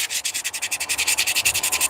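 Fine sandpaper, around 600 grit, rubs back and forth in quick, even strokes, a close, bright scratchy rasp repeating about ten times a second with no talking.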